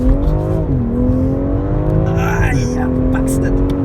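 A BMW X4 M Competition engine revs hard and climbs in pitch, easing off briefly before surging again, loud and close from inside the cabin with voices talking over it.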